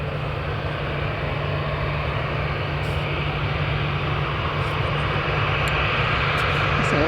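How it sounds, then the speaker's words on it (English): A Boeing 737-800 airliner at Manchester Airport produces a steady, loud engine roar that holds without a break, with no voices over it. "this is a 737 Boeing 737-800 going to Dublin"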